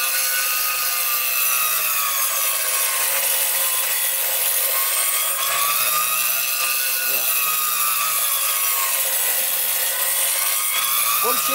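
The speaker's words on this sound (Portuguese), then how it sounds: "Passar novamente no esmeril." Scissors being sharpened on a bench grinder give a continuous, loud, harsh grinding hiss, with brief pitch shifts as the blade is passed across the wheel.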